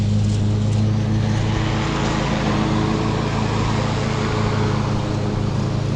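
SG106 4K drone with optical flow, flying forward at medium speed on a windy day near a running mower: a steady, close, whining buzz of small motors and props over constant broadband wind and engine noise.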